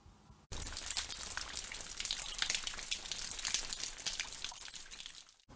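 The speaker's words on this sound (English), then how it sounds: "It's the sound of rain." Steady rain falling, a dense continuous hiss and patter that starts abruptly and holds at an even level for about five seconds, with no voices.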